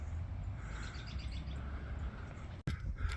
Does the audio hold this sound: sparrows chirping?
yes